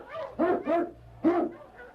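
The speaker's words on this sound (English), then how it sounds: "King, the swiftest, strongest of Eskimo lead dogs, blazes the trail through storm and snow" King, the Eskimo lead dog, gives three loud barks close by in an old radio drama: two quick ones, a pause, then a third, followed by a softer trailing whine.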